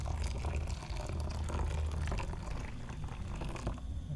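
Hot water poured over ground Arabica Gayo coffee for kopi tubruk, a steady close splashing and trickling pour that runs without a break throughout.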